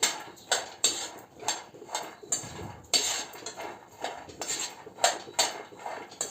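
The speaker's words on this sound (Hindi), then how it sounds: "बादाम फट रहा है, कुछ बादाम फट चुका है।" Almonds roast in a pan for a sweet, giving sharp little pops and clicks as they crack, landing at an irregular rhythm close by with quiet gaps between.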